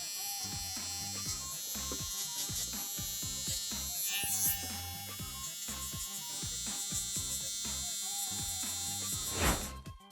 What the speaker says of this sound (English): shaving with this trimmer